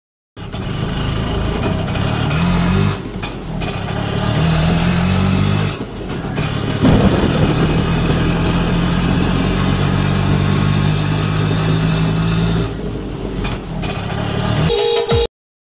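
A small auto rickshaw engine putters loudly and steadily nearby as it arrives in the rain, rising and dipping as it runs, with a brief horn-like tone near the end.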